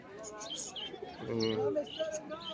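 A pigeon coos softly in a short low burble, with faint chirps and background chatter nearby at a pigeon market in Beldanga, Murshidabad.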